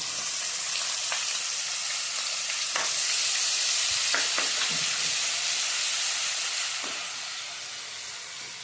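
Ginger, garlic and green chili paste frying in hot oil in a pan for a Kathiawadi bottle gourd curry; loud continuous sizzle with scattered stirring scrapes, fading slightly toward the end, no voices.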